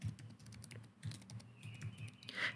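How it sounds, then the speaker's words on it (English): A password typed on a computer keyboard: soft, quick, irregular keystrokes, close but faint, in an otherwise quiet room. "I'm going to type in the password that I created before."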